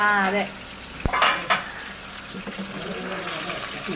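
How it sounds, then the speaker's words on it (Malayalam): Karimeen, pearl spot fish, is flipped in a pan with softened onions for Kerala-style mappas: a utensil clinks sharply against the pan, then a few scraping knocks give way to a steady low sizzle. "നമുക്ക് കരിമീൻ പയ്യെ മറിക്കാം"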